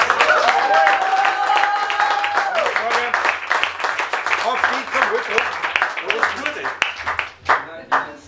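Audience applause at a live Wienerlied concert in a Viennese venue, a steady wash of clapping running the whole stretch, mixed with crowd voices and a sustained tone early on, thinning out near the end.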